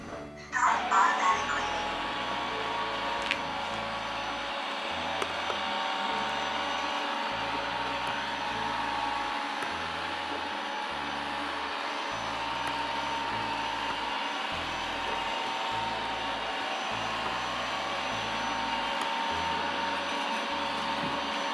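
A connected robot vacuum cleaner with a camera runs its cleaning cycle, a steady close motor whir and brush hum that continues evenly after a brief start-up clatter, with faint rhythmic thumps beneath.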